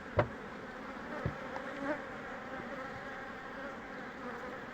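Dense, steady buzzing of many honeybees in an open hive during hive splitting, close by, with a few brief knocks near the start.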